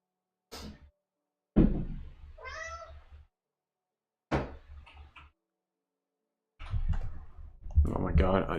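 A house cat meows at close range indoors beside a live day-trading desk: a few short calls mixed with sharp clicks and knocks, in bursts separated by quiet gaps.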